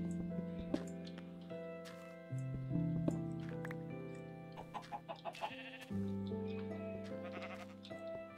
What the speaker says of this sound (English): Those sheep don't want to come in.